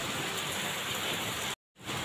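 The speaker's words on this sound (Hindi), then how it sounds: "ओले गिरने शुरू हो जाते हैं, बारिश हो जाती है" Heavy rain with hail falling during the wheat harvest season, a dense, steady hiss of drops hitting surfaces, briefly cut off by a short silent gap before resuming.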